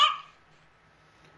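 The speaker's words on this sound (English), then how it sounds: "That is the dog of one of my friends in the party, being an absolute darling." A friend's dog barks once over a game voice chat during a Dead by Daylight stream, a single sharp close bark that fades quickly into quiet background.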